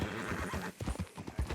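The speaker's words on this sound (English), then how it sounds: "Load Anders onto the back of your horse there" Horse hooves clip-clop in the Red Dead Redemption 2 video game, a brisk rhythmic run of close, distinct hoofbeats with a faint whinny mixed in.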